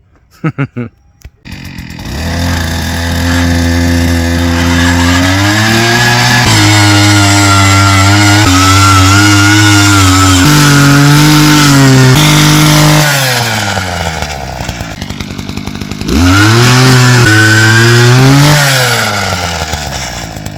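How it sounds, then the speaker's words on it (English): An engine-powered post-hole auger with an 8-inch blade roars loudly and close, its pitch climbing, dipping under load and revving again as it bores into the ground, with a brief lull before it surges back. "So the auger is only an 8-inch blade on it."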